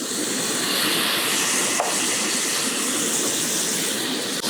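Beef sizzling steadily as it is stir-fried with garlic, rice wine and sesame oil, a loud, continuous broadband hiss with no voices.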